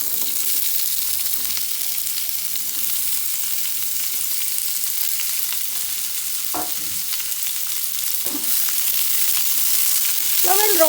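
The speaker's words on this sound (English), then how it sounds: "Now we'll roast this slightly golden." Slices of radish (mooli) roasting in a pan for sambar, a steady broadband sizzle throughout with a couple of brief stirring clinks, close and fairly loud, no talk.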